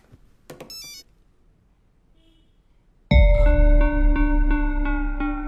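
A mobile phone rings loudly in a Telugu movie scene, a steady repeating electronic ringtone pattern that cuts in abruptly after brief quiet and continues without a break.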